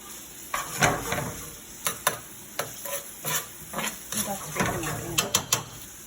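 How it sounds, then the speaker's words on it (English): Onions sweat in a pan for tomato risotto, a low sizzle with repeated sharp taps and scrapes of a spatula, while a voice talks intermittently nearby. "I'm going to add just my onions first."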